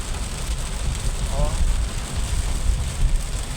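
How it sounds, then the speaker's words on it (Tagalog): Heavy rain pours down steadily, a dense, loud hiss of drops hitting a surface with no break. "Malakas ang ulan."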